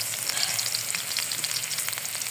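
Pieces of taro frying in plenty of hot oil, a dense, steady crackling sizzle heard close up, constant and moderately loud throughout, with no voices.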